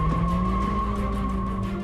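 A car drifting on a test track sends out loud, continuous tire squeal with a steady sustained tone over engine roar, close and unbroken throughout.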